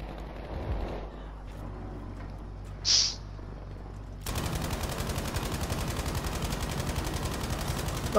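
Rapid automatic gunfire empties a magazine in Battlefield V on the Narvik map, a loud continuous rattling burst starting midway after a quieter stretch with a brief whistle, running steadily to the end.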